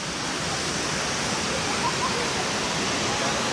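Cold mountain water rushes down at the Panicuason hot springs near Naga City, Philippines, a loud, steady broadband roar that fills the scene without a pause.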